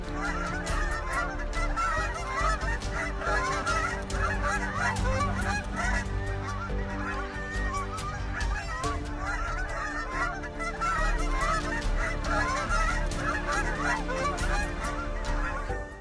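Wild geese honk in a dense, continuous flock chorus, many overlapping calls at moderate distance with no talking.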